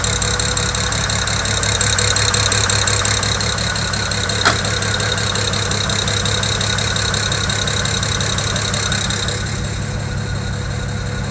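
Just after the number 6 injector is plugged back in, a BMW 335i engine keeps idling rough while it adapts, a loud, close, continuous uneven churn with ticking, easing slightly toward the end, with no talking.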